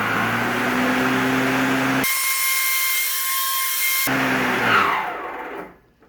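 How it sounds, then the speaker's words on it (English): A Greenworks 60V 25-inch electric lawn mower's blade spins with a steady loud whir, then the motor pitch drops as the automatic blade brake slows it to a stop near the end. "it sounds like it has an automatic brake on the blade, which is nice too"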